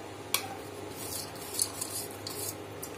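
Roasted whole spices go into a mixer jar for a tomato gravy, with faint scraping and light clinks from a spoon against metal, a few sharp taps standing out.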